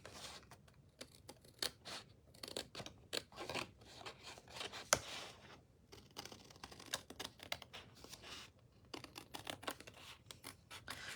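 Scissors trimming away a score line on a box, a run of quick crisp snips and light paper rustling, close and alone with no talk.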